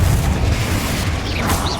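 A Confringo fire spell goes off in the Hogwarts Legacy video game, a deep, sustained boom that rumbles low and loud throughout with a steady roar and a brief whooshing flicker near the end.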